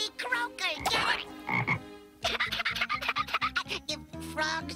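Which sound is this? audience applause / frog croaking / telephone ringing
frog croaking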